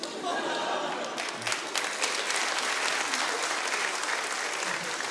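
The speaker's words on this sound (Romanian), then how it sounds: "Nici măcar n-au râs, au aplaudat" Steady, full applause from a roast audience, dense and even all the way through, with a few voices faintly under the clapping.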